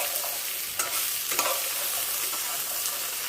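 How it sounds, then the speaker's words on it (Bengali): Onion, chilli, garlic and ginger frying together in a pan for a soya mushroom keema, a dense continuous sizzle close up with a few light stirring scrapes. "পেঁয়াজ, লঙ্কা, রসুন, আদা সব একসঙ্গে ভেজে নিচ্ছি।"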